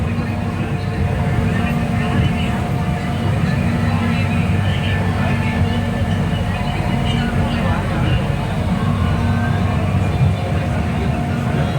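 An airport rail link train runs along at about 72 to 75 km/h with a steady, droning rumble and a continuous mechanical hum, heard from on board.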